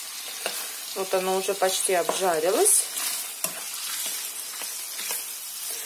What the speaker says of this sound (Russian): Вот начинаем с того, что мясо обжариваем.